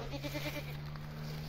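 A single Cameroon sheep bleats in short pulsing bursts at the start, then fades, over a steady low hum in the background.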